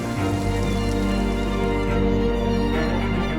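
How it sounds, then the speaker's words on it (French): Rain pours steadily onto hot asphalt during a thunderstorm in Brittany, a dense, even hiss that holds at the same loudness throughout with no voices. "la pluie s'abat sur l'asphalte encore brûlant"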